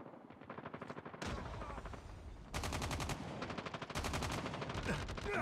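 Rapid gunfire from a submachine gun in Call of Duty on the Nuketown map, loud, close automatic bursts in several repeated blocks, with brief pauses between them.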